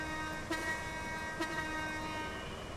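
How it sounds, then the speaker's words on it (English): Two short horn honks from a vehicle in the driving game Rambling Roads sound over a steady tonal engine hum, with no talking. "Honk my horn."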